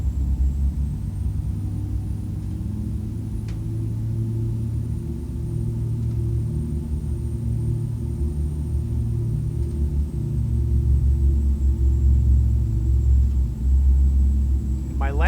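A propeller aircraft in a flight simulator game rolls down the runway for takeoff, a steady low engine drone building slightly louder toward the end, with a faint tone and a brief click over it.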